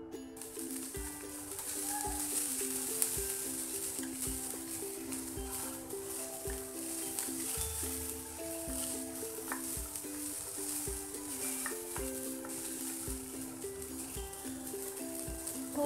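Chopped medium tomatoes sizzle in a hot pan for butter masala Maggi, a steady frying hiss running throughout beneath background music.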